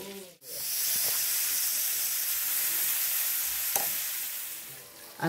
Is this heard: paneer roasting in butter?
yes